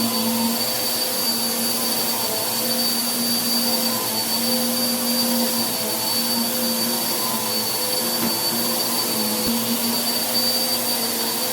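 A steady, loud motor roar with a high whine runs continuously throughout, with no voices, from a Bissell PowerForce Helix upright vacuum cleaner running on carpet.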